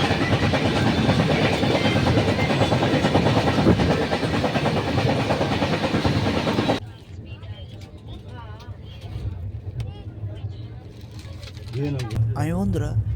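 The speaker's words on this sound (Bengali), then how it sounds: "আর এটা হলো হাওড়া থেকে Chennai mail. Train number 12840 Howrah থেকে" The Howrah to Chennai Mail passenger train, number 12840, roars past loud and close with a rushing rumble for several seconds, then cuts to a quieter background with faint voices.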